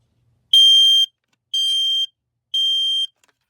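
A modern household smoke alarm sounding during a test, giving three loud, identical shrill beeps of about half a second each, evenly spaced one second apart, with silence between.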